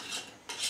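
Boilo drink ingredients are stirred in a container, two quick swishing, clinking strokes close up, faint and brief.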